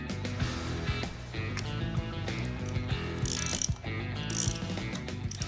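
A ratchet wrench clicks in rapid bursts while valves on hydraulic lifters are adjusted in an El Camino engine rebuild, with metallic ticks and a low background hum, close by.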